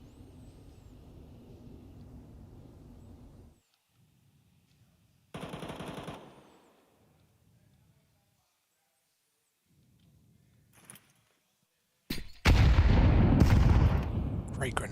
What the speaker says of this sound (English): Great grenades for G2.